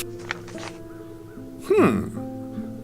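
A crow caws in the fantasy adventure game The Dark Eye: Chains of Satinav, one short, loud, rising call cutting over a steady background music bed.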